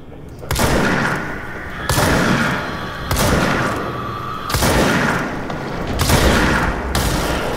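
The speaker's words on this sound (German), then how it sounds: "Die explodieren." Enemies explode one after another in the video game Control: a series of five or six loud booming blasts, each with a sharp attack and a rumbling tail, spaced about a second and a half apart.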